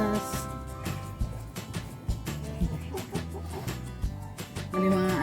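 Chickens cluck near the microphone in short, uneven bursts, blending with other background noise and a voice.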